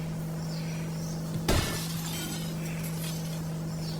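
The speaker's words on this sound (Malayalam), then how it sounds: "അവിടെ ഇടിച്ചപ്പോൾ ഇതല്ല കാറിൻ്റെ എന്തോ ഒരു ചില്ല് പൊട്ടിയിട്ടുണ്ട്" Car glass shattering in the Indian Bike Driving 3D video game, a single sharp crash over a steady electronic hum, followed by a brief tinkling tail.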